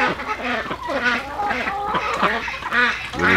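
Several ducks quack over one another in a busy, continuous chorus, close by.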